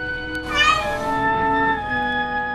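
A pet cat in fairly good health gives one long, drawn-out meow, close and clear, with a bending pitch that trails off, heard alone without talk.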